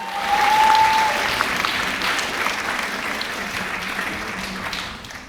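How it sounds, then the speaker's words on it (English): At an Indian classical dance arangetram, the audience gives a full round of applause for the dancer Anjali and the orchestra. The clapping is dense and steady, with a brief whistle at the start, and fades slowly. "Let us give another huge round of applause to Anjali and the orchestra team"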